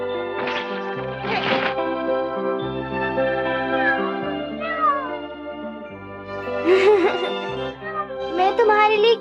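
A cartoon cat meows several times, close and clear, with strained, wavering cries at the start and again near the end, and no talk in between.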